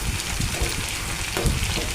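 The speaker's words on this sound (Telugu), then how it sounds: "అలాగే 2-3 పచ్చిమిర్చి చీలిక మంచిగా ఫ్రై అవ్వాలన్నమాట" Slit green chillies and curry leaves with onion frying in a pan for a liver and broad-bean curry, giving a steady close sizzle and crackle with a brief louder burst midway.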